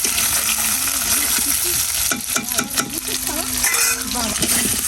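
Pre-fried potatoes sizzle in a pan with onion and chilli, a loud, dense crackle close to the listener, with busy stirring and scraping from a utensil throughout.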